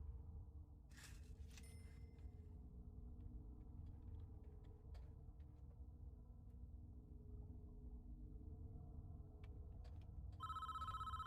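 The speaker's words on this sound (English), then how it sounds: "I hate the constant phone calls." Telephone ringing in the Prison Architect video game, a repeated electronic ring rising near the end of the clip over a steady low game hum.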